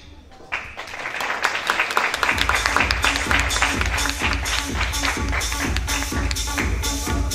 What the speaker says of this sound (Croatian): Aplauz za nju, podrška.